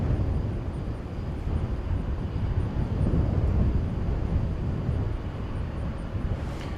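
American Airlines jet taking off from runway 18 Left at DFW Airport at night, a loud, steady broadband engine roar that holds strong throughout, heard from nearby with no talk over it.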